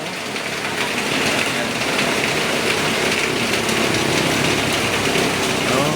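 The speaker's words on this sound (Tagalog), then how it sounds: "Kita nyo naman, super lakas ang ulan." Heavy rain pours down in a dense, unbroken roar that stays loud and even throughout.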